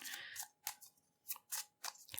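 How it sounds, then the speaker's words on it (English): A deck of tarot cards is shuffled by hand in a quiet room, giving several short, crisp riffling bursts separated by brief pauses, close and soft. "So I'm going to shuffle here, see what they want to say."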